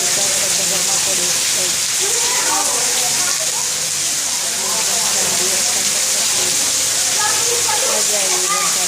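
Heavy rain pours down in Vadnagar, a loud, unbroken wash of falling water with patters on surfaces, while people talk faintly in the background.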